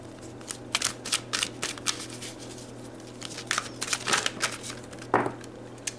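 Tarot cards shuffled by hand during a card reading: a run of crisp, rapid riffling bursts in quick clusters, with a final louder flutter near the end, fairly close and with no talking.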